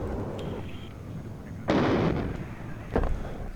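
Explosions and gunfire in the real-time strategy video game WARNO during a ranked battle with Soviet infantry: two loud, close blasts about a second apart over a steady rumble of distant fire, with no speech.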